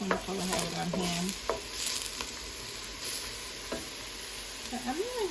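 Lobster bisque base sizzles gently in a pan as it cooks down, a soft steady crackle with a few brief stirring clinks and scrapes, close and moderately quiet.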